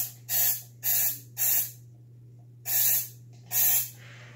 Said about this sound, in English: It's just the silicone spray.